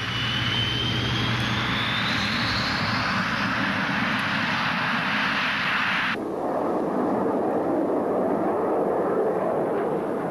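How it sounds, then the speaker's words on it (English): A MiG-27 jet with R-29-300 engines flies at low level at dusk, a loud, rushing jet roar with a falling whine that cuts sharply to a duller, deeper rumble partway through. "The R-29-300 engine gives tremendous performance and rugged reliability at low level."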